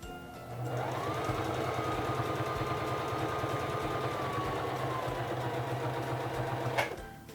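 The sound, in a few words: Singer Fashion Mate 3333 sewing machine sewing a buttonhole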